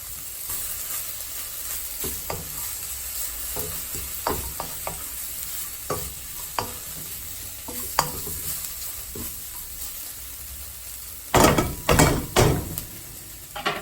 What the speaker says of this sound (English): we're going to add in the broccoli